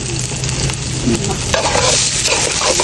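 Rice frying in oil with onions in a pan for pulao, a loud close sizzle with scraping and stirring strokes throughout, no voices.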